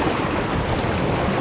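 Ocean waves wash and rush steadily around a fishing kayak off Malaysia in the morning, a broad, continuous surf noise mixed with wind buffeting the microphone, no voices.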